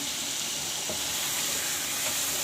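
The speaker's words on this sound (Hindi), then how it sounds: "सारे मसाले डाल के अच्छी तरह से भून लेंगे।" Coriander powder, turmeric and garam masala frying in a pan for a chicken gizzard and liver masala: a dense, even, close sizzle holding steady throughout, with faint stirring.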